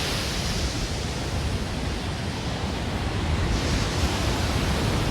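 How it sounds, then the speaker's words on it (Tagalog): Rough sea waves pound the shore at Red Rocks Reserve, New Zealand, a loud, constant roar of surf with wind mixed in and no clear breaks. "Ang sungit ng dagat, ang ingay."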